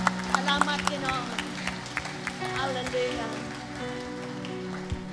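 A church congregation at a Sunday service claps, a loose burst of hand claps that thins out, under a speaker's voice that continues throughout.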